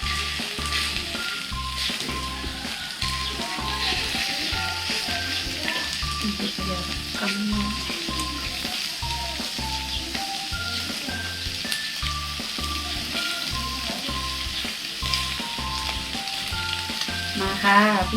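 Steady, loud sizzling of pork frying on a hot grill pan, a dense crackle that continues throughout with no talking.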